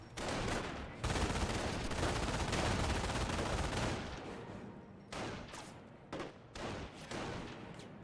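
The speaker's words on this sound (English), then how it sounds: "Rifle squad does get suppressed and does get some fire there from the MG42" An MG42 machine gun firing in the World War II strategy game Company of Heroes, a long dense roaring burst followed by shorter separated bursts, loud and close.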